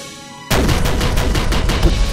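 Spaceship weapons in the space combat game The Sentient open fire suddenly after a quiet moment, then keep up a rapid, loud, rhythmic volley of shots with no talking.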